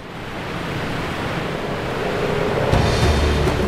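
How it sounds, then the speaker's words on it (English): Roar of Iguazu Falls, a vast system of 275 waterfalls on the Iguaçu River, heard as a loud, steady wash of rushing water with no pauses that grows heavier and deeper toward the end. "The Iguaçu Falls."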